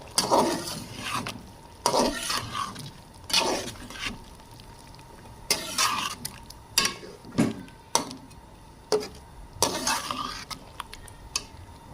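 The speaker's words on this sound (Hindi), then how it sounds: "ज़ीरा डालेंगे थोड़ा सा और इसे करेंगे अच्छे से मिक्स।" A spoon stirs chicken karahi with cumin in a pan, giving repeated scraping strokes in irregular bursts with brief pauses between. A faint sizzle runs underneath at low volume.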